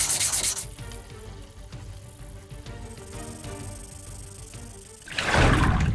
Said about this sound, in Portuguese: eu vou passar essas lixas aqui. Uma lixa 220 e depois uma lixa 400